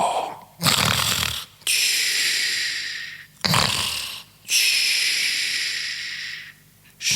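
A voice imitates loud snoring in a German children's story: two long, breathy snore cycles, each a rough inhaled rasp followed by a long hissing exhale, close and alone.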